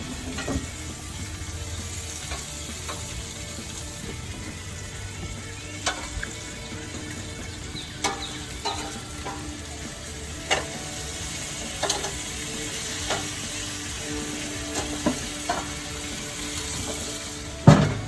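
Potatoes sizzle steadily on a grill, a continuous close frying hiss with scattered small pops and crackles throughout, no voices.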